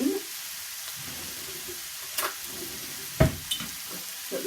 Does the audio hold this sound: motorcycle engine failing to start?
no